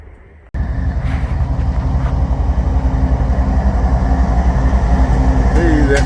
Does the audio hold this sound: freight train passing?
yes